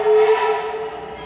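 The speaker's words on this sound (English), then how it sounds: "I hear that train." A steam train passing at a steam festival, sounding a sustained whistle: a loud, steady tone with a hissing wash behind it that gradually fades over about a second.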